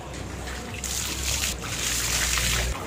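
Water runs from a tap or hose during a dog's bath, a steady splashing stream that gets louder partway through, with no talking.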